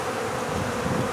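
A honey bee swarm in a yard hums as a dense, continuous buzz of many bees, steady and fairly loud, with no voices.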